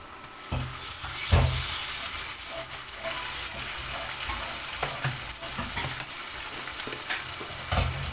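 Ginger-garlic paste fries with browned onions in hot oil for a crab curry, making a continuous close sizzle with repeated scraping, knocking stirs of a spoon against the pan and no talking.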